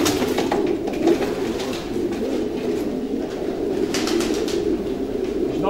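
Pigeons coo steadily inside a stud loft, a continuous low warbling chorus from several birds close by, with occasional wing flutters and no talk.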